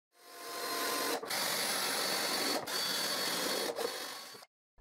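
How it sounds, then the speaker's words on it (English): An electric drill whirs steadily into a wooden board, close by, drilling guide holes, its whine briefly dipping three times before stopping. "I drill guide holes."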